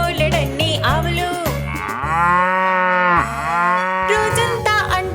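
Cows on a farm moo loudly in a children's rhyme, several long drawn-out moos following one another, some overlapping, close and sustained over a steady background.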